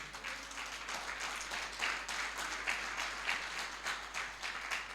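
A church congregation breaks into strong, sustained applause during an evangelical sermon, dense clapping with rhythmic surges, fairly loud and filling the room with no voice over it.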